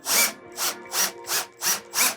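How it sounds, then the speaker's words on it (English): A power drill drives a screw slowly into a tapped hole while a plant holding system is installed, whirring in six short, evenly paced bursts with brief pauses between them, close and clear. "So really just drill it in very slowly"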